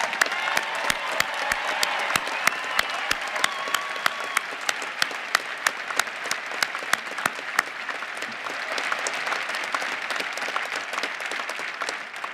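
A large commencement crowd gives sustained applause honoring officers, veteran graduates and military families, a thick, even roar of clapping with crisp nearby claps punctuating it across the whole stretch.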